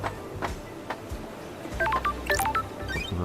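Rapid series of telephone keypad dialing tones in the video game Paradise Killer, short bright beeps clustered near the end over a faint background hum, with no talk.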